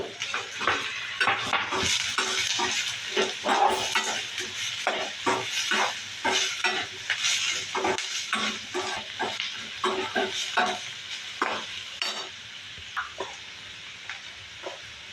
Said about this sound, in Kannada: ಹಾಕ್ಕೊಂಡು ಚೆನ್ನಾಗಿ ಫ್ರೈ ಮಾಡ್ಕೋಬೇಕು ಎಲ್ಲ ತರಕಾರಿನ